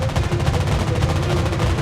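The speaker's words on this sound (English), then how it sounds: "Anti-aircraft gun on full alert." Rapid, continuous anti-aircraft gunfire from a warship in World of Warships Blitz, a dense unbroken rattle of shots that stays loud and steady throughout with no pauses.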